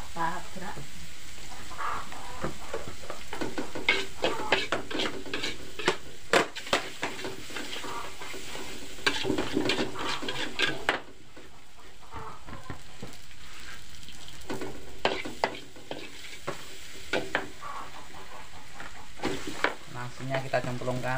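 Nasi goreng with basil being stir-fried in a pan, a continuous loud sizzle broken by repeated scraping and clacking strokes of the spatula, close up throughout.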